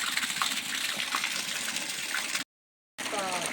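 Water pours steadily from a water tank into the spot below in a close, splashing gush, briefly cutting out before resuming.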